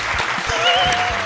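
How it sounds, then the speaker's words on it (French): Applause from a Twitch anniversary-stream audience, a dense patter of claps with a steady tone running through it, loud and close. "On peut applaudir, on peut applaudir."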